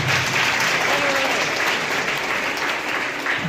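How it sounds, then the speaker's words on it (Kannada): A women's college audience bursts into sustained applause, dense and even clapping filling the hall from start to finish, with faint voices underneath. "ಇದು ಮಹಿಳಾ ಕಾಲೇಜ್, ಅದಕ್ಕೋಸ್ಕರ ನಿಮಗೊಂದು ಚಪ್ಪಾಳೆ ಇರಲಿ."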